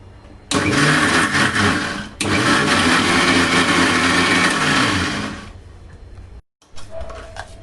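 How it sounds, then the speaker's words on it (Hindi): A mixer grinder whirs loudly and steadily while whipping ghee to a creamy texture, briefly stopping and restarting, then winding down and cutting out before a short clatter. "और अब जो है हम मिक्सी चलाएंगे।"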